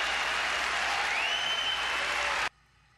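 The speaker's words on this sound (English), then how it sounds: "They're just applauding." An audience at the NHL draft applauds, a dense, steady wash of clapping heard from a distance with a faint tone sweeping through, ending abruptly in near silence.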